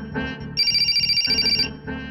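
A telephone rings in a comedy scene, a bright electronic trilling tone that pulses repeatedly in short bursts, loud and close, mixed with brief background sound.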